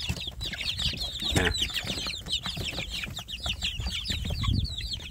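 Free-range village chickens and chicks cluck and peep continuously at close range, with many overlapping high calls, some wing flutters and a brief word spoken over them.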